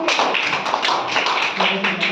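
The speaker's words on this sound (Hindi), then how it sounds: "शाबाश, वेरी गुड, ताली बजा दो।" Schoolchildren in a classroom clap together in a quick, continuous burst of dense, close claps, with voices mixed in.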